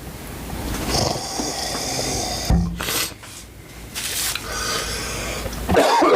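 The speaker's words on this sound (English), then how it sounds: "I have this like weird cough that comes once an hour." A person coughs a few times close to the microphone, with sharp bursts and a throat-clearing sound, then a short pause before a final loud cough near the end.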